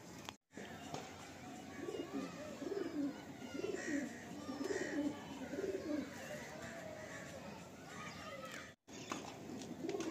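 Pigeons coo softly in a repeated, rolling rhythm, with several low murmuring calls overlapping at a quiet, steady level against faint background noise.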